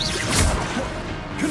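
Levioso levitation spell cast in Hogwarts Legacy, a brief whooshing swish with a thumping impact amid busy game effects, fairly close and continuous.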